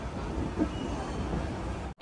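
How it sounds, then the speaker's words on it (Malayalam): The Kochuveli–Bhavnagar Express pulling into Ratnagiri station, a steady low rumble of railcars rolling slowly with faint wheel noise, moderately quiet, cutting off near the end. "രത്നഗിരി റെയിൽവേ സ്റ്റേഷനിൽ നമ്മുടെ വണ്ടി ഇത് എത്തിയിരിക്കുകയാണ്"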